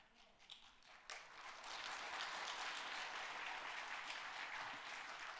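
Church congregation applauding during a sermon, a brief scattered clap or two swelling after a second into steady, sustained applause that fills the room and holds at an even level to the end, with no talk over it.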